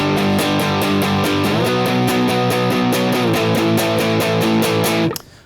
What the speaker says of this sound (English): Rhythm guitar for the chorus sounds like this. It's just power chords.